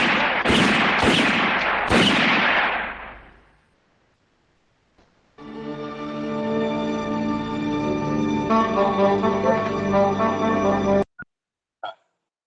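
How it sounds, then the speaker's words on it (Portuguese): Three sharp gunshots from an anime scene, loud and close, fired in quick succession with decaying echoes, followed after a pause by a sustained music-like tone and a couple of faint clicks. "Três tiros na cara."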